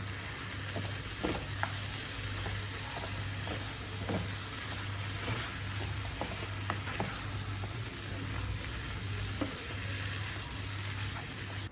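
Chicken fry sizzles steadily in a pan with pepper powder, chilli and curry leaves, a continuous close crackling hiss with occasional scraping stirs and no voices.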